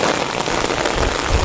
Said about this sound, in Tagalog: Sobrang lakas po ng ulan din.